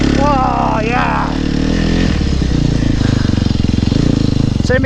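A 4-stroke dirt bike engine revs hard and labours while climbing a hill on an enduro ride, loud and close with pulsing throttle, and a voice shouts over it at the start.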